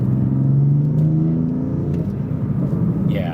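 A car with a dual-clutch transmission, set to Drive Logic mode 3, accelerating hard: a loud, close engine note that rises in pitch and then shifts, with no talking.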